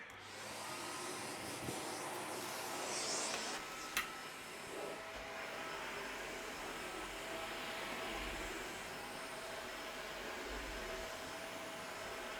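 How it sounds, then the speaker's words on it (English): Hoover HL4 Pet vacuum cleaner used with its wand to pick up dust from carpet, giving a steady, loud motor whine and airflow roar that runs throughout with a few brief clunks. "What I'll do now is I'll try and pick this up using the wand."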